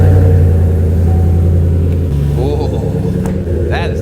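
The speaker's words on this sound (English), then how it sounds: "See what these sound like. Let's go for that first start." A Chevy/GMC 1500 pickup truck engine with an aftermarket exhaust cranks and catches, settling into a deep rumbling idle with a brief rev, close by; a voice briefly reacts near the end.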